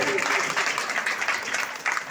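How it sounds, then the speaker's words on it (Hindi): Audience applause at a meeting: a steady wash of clapping from a gathered crowd, fairly loud and continuous throughout, with a voice mixed in. "सभी लोग एक तालियां सभी के लिए।"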